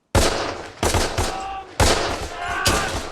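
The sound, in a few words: machine gun fire in Band of Brothers episode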